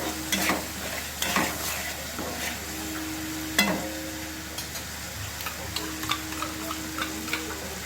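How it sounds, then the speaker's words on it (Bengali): Spice masala sizzles in a pan after salt is added, with a spoon scraping and stirring in irregular strokes over a steady low frying hiss. "নুন দেওয়ার পর এটাকে আমি একটুখানি ভেজে নেব।"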